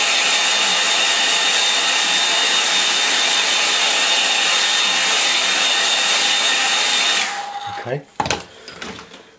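A hair dryer blows steadily and loudly at close range over watercolour painting paper for several seconds, then cuts off, followed by a few faint bumps and handling noises.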